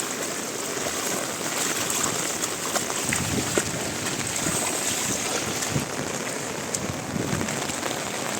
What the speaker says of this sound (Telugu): ఎక్కి పారుతున్నాయి నీళ్ళు వచ్చేసి ఇక్కడ వచ్చేసి నీళ్ళు చాలా తోడు ఎక్కి మరీ పెంచుకొని మరీ పోతున్నాయి